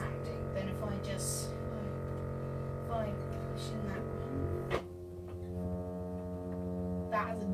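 A pipe organ plays deep, sustained bass notes at forte, a big droning chord that shifts pitch midway, with a voice talking over it.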